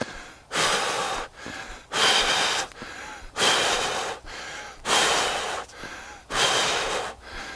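Heavy, labored breaths during a 5K run with serious breathing issues, loud rasping inhales and exhales repeating about every second and a half, close and alone.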